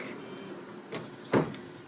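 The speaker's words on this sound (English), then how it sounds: "Now you can move the print carriage back" The print carriage of an HP 580 printer is slid back by hand, giving a faint short scrape, then a louder brief clunk near the end, over a quiet room hum.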